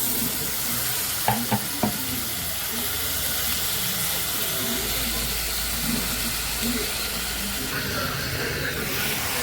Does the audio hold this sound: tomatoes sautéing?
yes